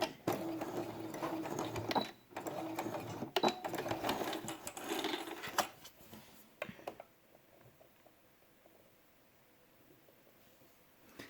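A sewing machine stitches felt for a finger puppet in a fast, steady mechanical whir with short stops and restarts, running for about six seconds before the fabric is adjusted with quieter handling clicks.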